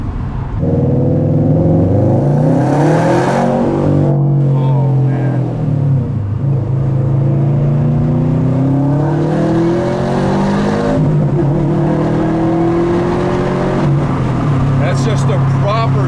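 A 2017 Subaru WRX STI's aftermarket Nameless exhaust roars loudly up close, revving and climbing through gears from first with rising pitch, then easing and surging again; a voice is briefly audible.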